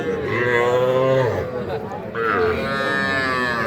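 A Friesian cross cow, six teeth in age, gives two loud, close, drawn-out moos, the second starting after a brief pause.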